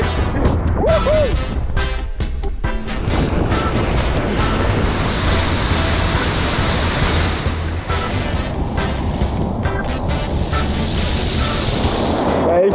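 A waterfall in Angola, a loud continuous roar of rushing, crashing water close by, with a brief whoop from a person near the start.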